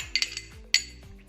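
Pieces of chopped cucumber dropped into a bowl for a green salad, a few quick clinks and soft knocks close by, two main bursts about half a second apart, with no talking.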